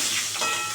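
A chitol fish head fries in hot oil right after being flipped, a loud, steady hiss of sizzling heard close up and alone.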